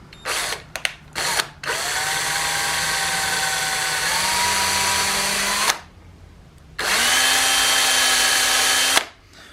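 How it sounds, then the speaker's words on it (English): A power drill with a small bit boring a pilot hole for a self-tapping screw in a knife-stand build: a few short bursts, then two long steady whines with a pause between, close and loud. "I'm going to use this little small bit just to try to guide that self-tapper up in where I want it."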